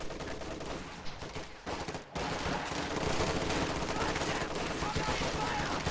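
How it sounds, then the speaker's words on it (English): An MG34 machine gun fires in a WWII strategy game battle in deep snow, with dense rattling bursts of gunfire layered over a busy, loud battlefield din that barely lets up. "MG34 suppresses those two squads"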